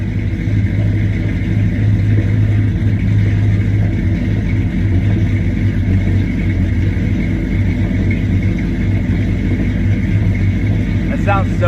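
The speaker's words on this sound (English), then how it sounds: "Wait for it to idle down so we hear the chop." A cammed pickup truck engine with aftermarket exhaust settles into a loud, close, lumpy idle, its deep rumble pulsing with an uneven, choppy rhythm throughout.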